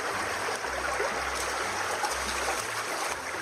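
A mountain stream flows steadily close by, its continuous rushing and trickling water filling the scene, with a low intermittent rumble beneath.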